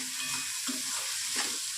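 Carrot, ridge gourd and capsicum fry in a pan for semiya upma, a steady sizzle with soft scraping stirs, close and continuous.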